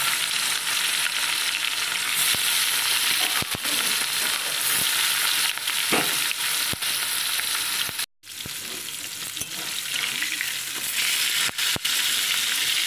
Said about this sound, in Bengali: তারপরে এক এক করে মাছগুলো আমি ভেজে নেব।